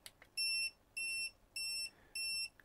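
Electronic speed controller on an Arrma Fury Mega RC car emitting four evenly spaced, high-pitched beeps, each about a third of a second long, clear and fairly quiet with no talking.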